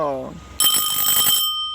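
An electric bell, the kind used in schools and workplaces, rings in one loud, sustained burst of under a second, right after a brief spoken voice.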